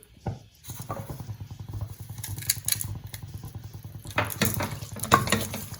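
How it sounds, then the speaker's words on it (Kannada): Mutton biryani masala frying in a pan, a steady close sizzle with stirring scrapes and occasional clinks of a utensil against the pan, continuing throughout without talk. "ಹಿಂಗೆ ಫ್ರೈ ಮಾಡ್ಕೊತಾ ಇದ್ದು"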